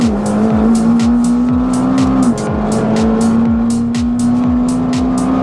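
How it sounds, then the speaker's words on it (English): A McLaren's engine drones at a steady high pitch from inside the car while it laps a race track, with a brief dip as it shifts and regular rhythmic thumps beneath, loud and close without talk. "going for a spin in the McLaren"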